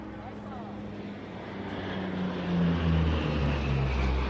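Propeller aircraft at an airshow making a low pass with a pitch up into a climb, its engine drone rising then changing pitch, steady and moderately loud, with a commentator talking over it.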